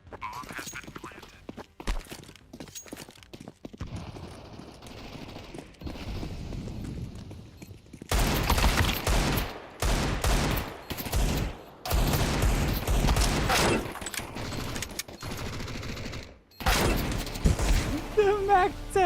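Mac-10 submachine gun fire in Counter-Strike, rapid bursts of game gunfire separated by short gaps, with talk mixed in over the shooting.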